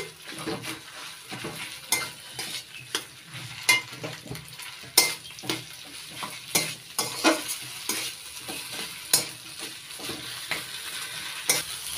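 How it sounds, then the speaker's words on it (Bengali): Grated potato filling with turmeric and salt is stir-fried in a pan: a spatula scrapes and knocks against the metal in irregular strokes over a continuous low sizzle, close by and without speech. "একটু নাড়াচাড়া করে ভেজে নিয়েছি।"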